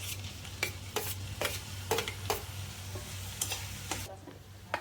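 Chopped tomato added to onion and garlic frying in hot oil in a home kitchen pan, a steady soft sizzle with repeated sharp scraping strokes of a spoon stirring through it, close and moderately quiet.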